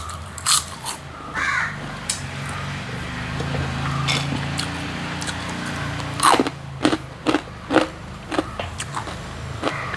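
Crunchy fried dried chilli is bitten and chewed close up, with sharp crisp crunches and chews arriving in a quick run near the end after a quieter stretch.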